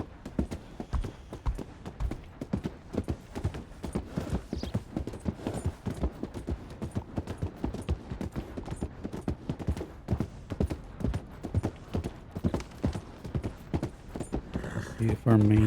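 Horse hooves galloping in Red Dead Redemption 2, a rapid, steady clip-clop rhythm running continuously and close, with a low rumble near the end.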